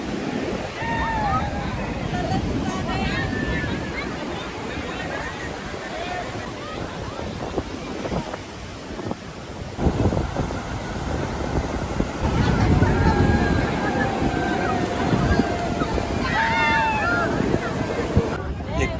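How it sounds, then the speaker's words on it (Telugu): Waves and wind on Calangute beach in Goa, a steady roar of surf with gusty wind buffeting the microphone, loud and continuous, with faint distant voices mixed in. "ఇదే ఇప్పుడు మీరు చూస్తున్న విజువల్స్ అన్నీ క్యాలంగూట్ బీచ్ వే"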